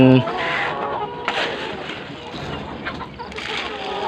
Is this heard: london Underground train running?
no